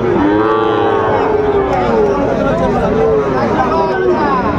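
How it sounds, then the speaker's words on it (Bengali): Young bulls at a crowded cattle market, a loud, drawn-out moo rising and falling close by over a busy hubbub of voices and chatter. "এখানে ছোট্ট ছোট্ট ষাঁড় বাচ্চা সংগ্রহ করছে"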